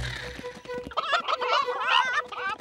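Cartoon chickens cluck and gobble in a burst of busy, overlapping calls, starting with a short low rumble and then rising into loud, warbling squawks for about two seconds.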